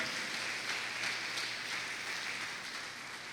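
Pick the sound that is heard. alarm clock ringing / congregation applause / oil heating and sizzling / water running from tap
congregation applause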